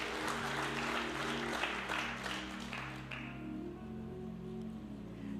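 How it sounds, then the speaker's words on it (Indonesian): Church congregation applauding during a worship service, a burst of clapping that fades after a few seconds while sustained keyboard music continues beneath. "Berikan tepuk tangan yang meriah buat Tuhan."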